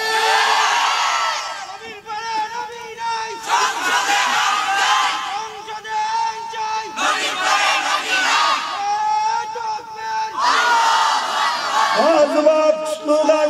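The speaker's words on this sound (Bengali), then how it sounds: "আজ থেকে স্লোগান চলবে নবীর পরে নবী নাই সংসদে আইন চাই" A large crowd at a religious rally chants a slogan in loud, rhythmic unison bursts, with brief pauses between lines.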